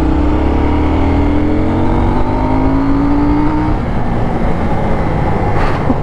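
A KTM Duke 790 motorcycle in sport mode pulls hard in second gear, its engine note climbing steadily in a loud, continuous roar up close before it levels off near the end.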